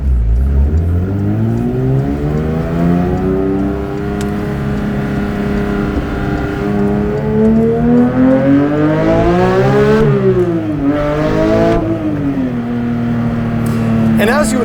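Porsche 911 GT3 with a manual gearbox pulls away from a traffic light, its engine note rising loud and close in a strong climbing whine, dipping briefly at gear changes around ten and twelve seconds before pulling again.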